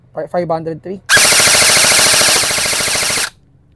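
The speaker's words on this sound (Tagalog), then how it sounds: "Flash magazine 300 rounds. Okay, firing." A gun firing from a 300-round flash magazine unleashes one loud, rapid, continuous burst of shots for about two seconds, right after a brief spoken phrase, then cuts off sharply.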